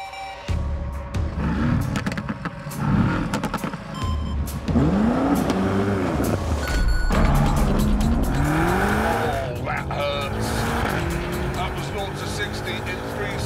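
A BMW F90 M5 accelerating hard in a drag race, its engine rising in pitch through repeated gear changes with brief tire squeal, loud and close throughout.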